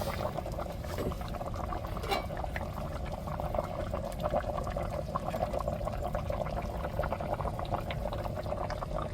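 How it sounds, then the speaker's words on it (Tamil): Kuzhambu curry simmering in a pot at dinner time, a steady dense bubbling and gurgling that runs unbroken, close and moderately loud, with no voices. "குழம்பு நல்லா வெந்து வந்துருச்சு"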